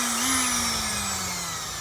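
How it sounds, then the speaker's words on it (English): A Dremel rotary tool runs steadily at high speed, a close, sustained whine with a slight dip in pitch partway through, alone with no talk. "I got my little Dremel tool right here"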